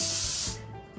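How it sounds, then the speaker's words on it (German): Hairspray from an aerosol can sprayed onto a ponytail while styling, a single loud, close hissing burst of about half a second that stops abruptly, leaving quiet handling noise. "Einfach Haarspray drauf sprühen."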